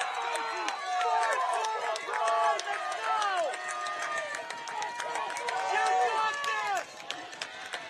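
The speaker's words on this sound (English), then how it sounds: "Crowd really getting into it again." A high school football crowd at a Ft Bragg versus Middletown game keeps up a steady roar of shouting and yelling voices, many overlapping cries carrying from the stands, easing slightly near the end.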